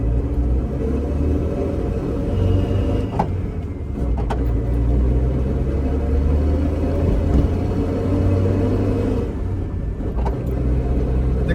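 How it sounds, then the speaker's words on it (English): A Honda Civic on new wheels with freshly rolled fenders cruises neighborhood streets, its engine and road noise forming a steady low rumble heard from inside the car, with a few faint knocks and no talking. "go drive it around the neighborhood for a couple minutes, see how bad the rubbing and everything is on the freshly rolled fenders"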